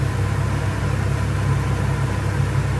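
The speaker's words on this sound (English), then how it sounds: "Here's our rolling boil" A pot of wort at a steady rolling boil on a small-batch home brew day for a Dark English Mild, giving off a continuous dense roaring hiss with a low rumble underneath. It stays constant and fairly loud throughout, with no talking.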